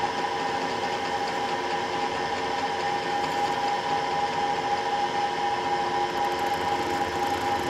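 A KTM 50/65/85 carburettor bore being machined through the slide bore into the throat entry, giving a steady, continuous grinding whine with sustained tonal hum, close and loud with no pauses.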